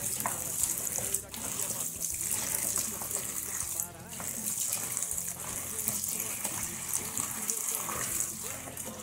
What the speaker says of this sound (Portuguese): Vou colocar água.